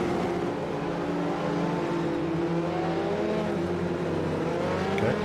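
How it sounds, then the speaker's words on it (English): In a sim racing game at Brands Hatch, a safety car drives around the track, its engine a steady, loud drone that holds evenly throughout. "Safety car's going around again through the carousel"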